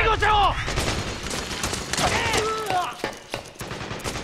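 Soldiers fire rapid bursts of gunfire in Metal Gear Solid 4: Guns of the Patriots, sharp cracking volleys mixed with shouting voices and talk.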